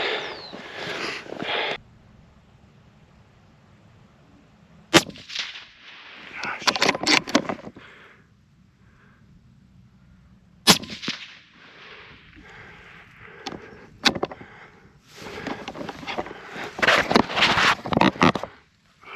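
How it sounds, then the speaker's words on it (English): Two sharp, loud gunshots ring out several seconds apart during a goat hunt on a hillside, with quiet rustling and movement filling the gaps between and after them. "Missed him on the first one for some reason. But that second shot was a headshot."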